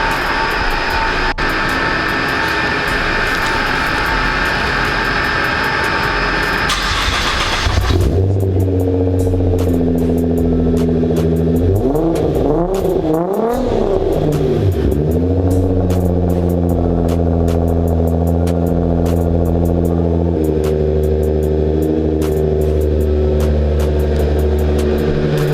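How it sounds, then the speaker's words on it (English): A tuned 700-horsepower supercar engine cold-starts with a sudden loud catch, revs hard and flares up once, then settles into a deep, steady, throaty high idle that stays loud and close. "let me go ahead and let's get a cold start up really quick"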